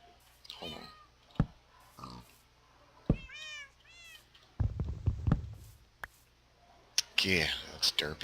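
Minecraft cats give several short, rising meows near the middle, with clicks and a person talking before and after.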